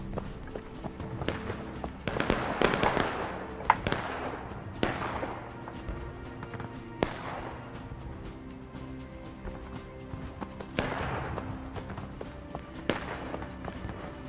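Artillery cannons fire in the Civil War video game War of Rights: several heavy booms, spaced irregularly, each with a long reverberant tail, over a low battlefield background.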